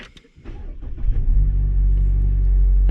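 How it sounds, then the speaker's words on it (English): Mazda CX-5 engine cranks briefly, catches and settles into a steady, close, loud idle rumble that holds to the end, with no talking. "So we'll start up the engine"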